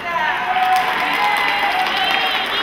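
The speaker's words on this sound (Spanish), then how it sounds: "Los de las estrellas que aplaudan." A seminar crowd of school directors breaks into brief, dense applause and crowd murmur, a steady wash of clapping lasting a couple of seconds.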